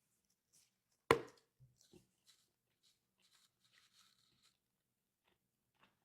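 A single crisp bite into a Domino's pizza topped with mushrooms and peanut butter, a sharp close crunch followed by a few faint chewing sounds and a short, quiet swallow.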